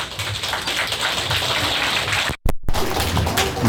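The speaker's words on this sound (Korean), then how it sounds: "큰 박수로 맞이해주시기 바랍니다." A rally crowd in Daegu claps loudly to welcome a speaker, a thick, rain-like roar of many hands that briefly drops out to near silence before resuming just as strong.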